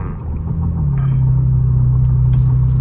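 A Kia Stinger GT1 sports car engine rumbles close by, a low steady drone that settles into a sustained, even hum, with a faint brief higher noise near the end.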